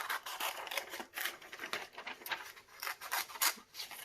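A piece is roughly cut out while making live edge river resin coasters, producing a run of rasping, scratchy cutting strokes in uneven bursts, close and fairly quiet.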